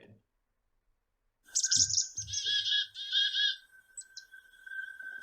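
Recorded chickadee alarm call played back after a short silence, with a run of sharp chirps and high notes over a steady tone, close and clear.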